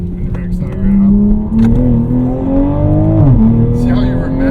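A track-built Toyota Supra accelerates on city streets after a turn, its engine note climbing steadily in pitch, loud and close from inside the car, with a brief dip and recovery as it shifts, under occasional talk.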